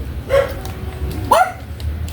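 A dog barks twice, sharp separate yaps over a noisy outdoor background, fairly close.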